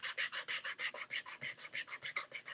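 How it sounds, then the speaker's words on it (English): Hand sanding of wood pieces for a painting display: a steady back-and-forth rasp of about sixteen quick, even strokes, close and fairly quiet, with no talking. "I'm just sanding them. I'm sanding them away."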